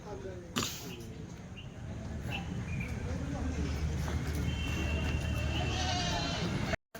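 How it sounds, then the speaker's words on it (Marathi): Goats bleat now and then over a steady outdoor background, with a voice talking briefly and a sharp knock near the start. "आता तुम्हाला मी शेळ्या सोडून दाखवतो मोकळं मोकळं"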